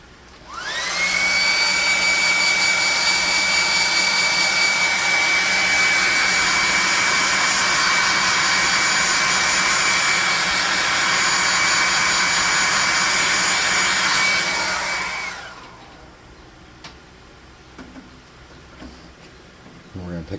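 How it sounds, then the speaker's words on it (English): A hair dryer runs loud and steady at close range for about fifteen seconds, drying paint on a fantasy planter, then switches off and leaves faint room noise. "We're going to hit this with a hairdryer quick."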